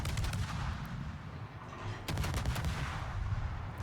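Rapid salvos from the Kleber, a French destroyer in World of Warships, fired with the reload booster active: dense overlapping gunfire bursts in a continuous loud barrage, with a fresh heavy volley partway through.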